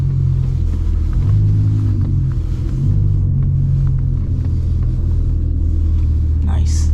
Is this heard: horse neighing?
no